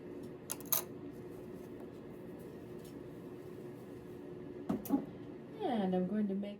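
Sharp scissors trim fabric while the foundation is folded out of the way. Two brief, close snips come in quick pairs, and a voice is heard briefly near the end.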